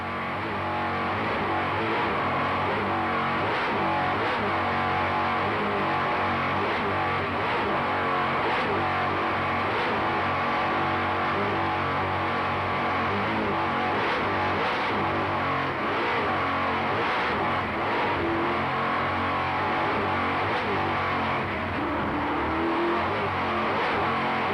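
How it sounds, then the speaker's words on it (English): Kurtz Marine offshore powerboat racing engines roar continuously at the 1995 Key West World Championships, a loud, sustained high-revving drone with shifting pitch as boats run at speed. "Just listen to those Kurtz Marine engines."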